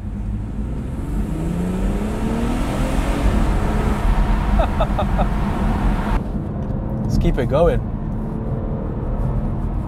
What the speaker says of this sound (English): That classic six-cylinder, like howl, wail.